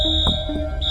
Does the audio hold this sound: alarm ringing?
yes